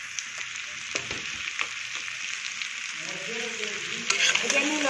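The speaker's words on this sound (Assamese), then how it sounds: "এতিয়া আমি লৰাইছোঁ ভালদৰে" Ginger sizzles and frays in a hot pan while it is stirred, a steady bright hiss with scraping stir strokes, and the frying grows busier toward the end.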